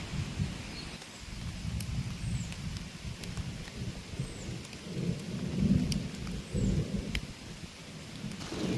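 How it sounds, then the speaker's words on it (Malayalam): Sparse first raindrops of a summer rain tap here and there on dry ground while a low, rolling rumble of thunder swells and fades in the background. "ഓരോ തുള്ളിയായിട്ട് ഭൂമിക്ക് പതിക്കാൻ തുടങ്ങിയിട്ടുണ്ടേ."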